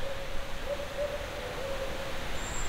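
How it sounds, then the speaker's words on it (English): An owl hoots repeatedly in a quiet rural spot beside a creek, soft and moderately distant calls in an irregular series over steady low background hiss. "The owls always talking to me."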